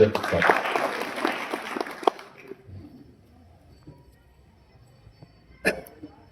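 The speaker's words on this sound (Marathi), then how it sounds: "एकदा सर्वांनी टाळ्या वाजून" A crowd claps at the inauguration of Akole taluka's first drone crop-spraying machine, a dense burst of applause lasting about two seconds before dying away into near quiet, with one sharp knock near the end.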